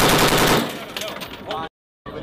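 Machine gun fire from an attack helicopter during Marine training, a loud dense burst of rapid shots followed by crackling echoes, a brief silence and then more noise.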